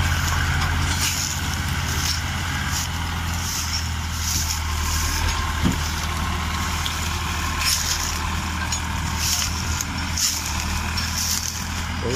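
A tractor's engine runs steadily and loudly while pulling a heavy sugarcane load, either a Mahindra 475 DI or a New Holland 3600 Heritage Edition. The drone holds throughout with faint periodic clanks and no talk.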